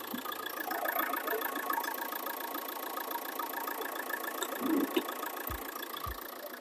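A 2015 Renault Grand Scenic engine idles steadily at close range, a smooth continuous hum with a light even ticking and no revving.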